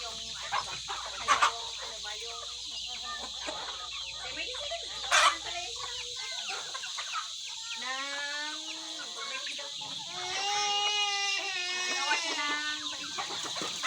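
Pet chickens clucking and calling in a series of short, fairly close bursts, with people talking and a voice over a steady background hiss.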